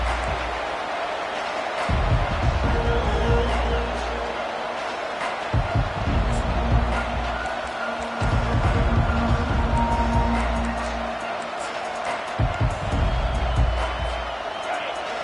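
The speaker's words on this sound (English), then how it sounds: "This crowd bringing an ear-splitting welcome to their visitors." A stadium crowd roars at a Texas college football game, a dense, loud wash of cheering that swells in several surges beneath a play-by-play commentator's voice.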